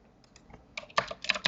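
Keys clack on a computer keyboard at a desk, a few sparse taps followed by a quicker, louder cluster of keystrokes, close and clear with no voices.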